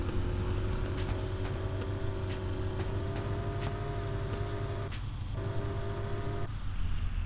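Car engine in Car For Sale Simulator 2023, driven with nitro on, a steady droning hum with a faint tonal whine that holds throughout, briefly dipping once, with no talk over it.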